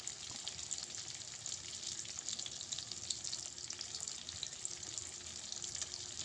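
Chanda fish slowly frying in its own oil in a home kitchen pan, a steady, even crackling sizzle that carries on without pause and with no voices.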